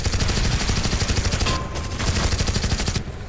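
Dense, continuous automatic gunfire from the zombie shooter Dead Alliance on Xbox One, loud and rapid with a brief dip midway before the firing resumes.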